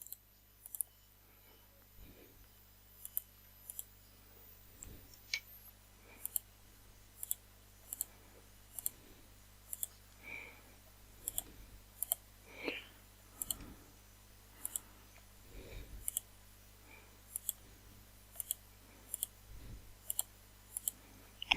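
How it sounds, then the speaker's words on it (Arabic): A computer mouse clicks during work in design software, sharp isolated taps that come singly and in quick pairs at irregular intervals over a faint, quiet background. "طبعا انا بعمل كليك"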